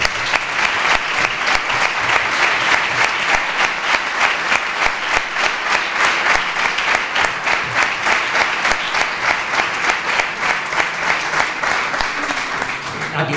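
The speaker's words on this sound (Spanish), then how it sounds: "Así que para Jesús Quintero pido por favor un aplauso." Sustained applause from a large audience at a book presentation, dense rapid clapping that stays steady and loud for over ten seconds, with a faint voice underneath.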